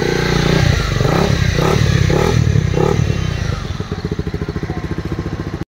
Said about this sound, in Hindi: एग्जॉस्ट साउंड भी सुनाता हूँ आपको